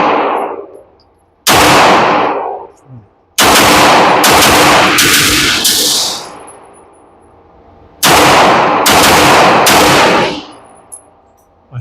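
Loud gunshots from a Kimber 2K11 Eclipse pistol at a shooting range, fired in two quick strings of several rounds each with short gaps between them. Each shot cracks sharply and rings out, and no one speaks.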